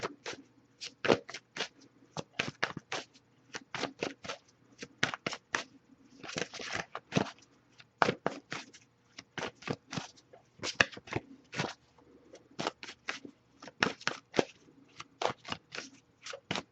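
Playing cards shuffled in repeated quick riffling bursts, each a crisp papery flutter, close and fairly quiet, with brief pauses between runs and no talking.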